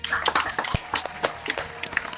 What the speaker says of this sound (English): We have a round of applause, please